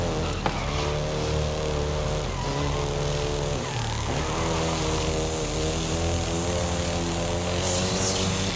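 A Volkswagen Golf GTI in Forza Horizon 5 drives with a steady, loud engine drone and some shifts in pitch as it accelerates, continuous and close, with no talk over it.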